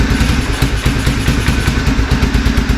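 A 1987 Honda Fourtrax ATV engine idles steadily after carburetor and choke repair, a close, loud, even clattering putter with faint thumps throughout and no voices.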